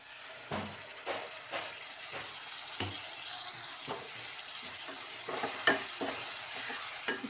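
Tomato gravy with onion stirred in a frying pan for chicken keema, a spoon scraping and clacking in repeated uneven strokes over a soft, close sizzle.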